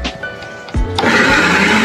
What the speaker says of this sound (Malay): Kisar bahan-bahan tersebut.